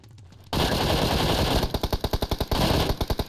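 Rapid automatic gunfire from PUBG Mobile, a sustained loud burst followed by distinct evenly spaced shots, then another dense burst, with no talk over it.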